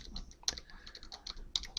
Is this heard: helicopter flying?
no